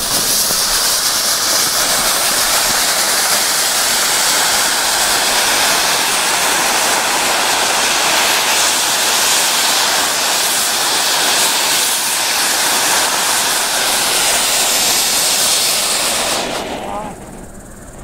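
A Jorge Kongo firework volcano fountain sprays outdoors with a loud, continuous roaring hiss that holds steady for a long stretch before fading near the end.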